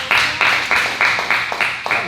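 Rhythmic unison clapping from a church congregation praising the Lord, about eight sharp claps in steady time, fairly close and clear.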